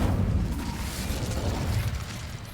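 Incendio fire spell cast in the video game Hogwarts Legacy: a loud, dense roaring burst of flame that holds steady for about two and a half seconds before easing slightly, with no voices.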